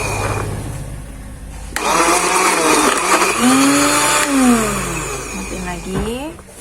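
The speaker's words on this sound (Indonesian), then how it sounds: "kita pakai blender kecil begini. Nah, kita blender dikit-dikit ya." A small kitchen blender chops chicken for dim sum in short bursts, its whining motor revving up and pitching down between pulses, loud and close.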